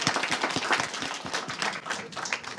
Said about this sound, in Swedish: Värt en applåd, eller hur?